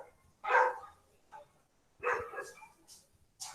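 Dogs barking in a few separate bursts, moderately close, with short quiet gaps between the barks.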